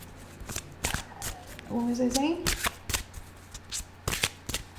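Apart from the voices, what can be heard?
shuffling a large deck of tarot cards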